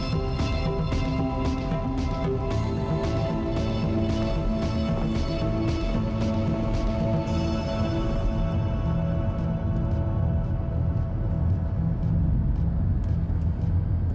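Continuous low rumble of road traffic in the game Glitchhikers: The Spaces Between, a steady engine-and-tire drone with a brighter passing wash early on that fades into a darker hum; no talk.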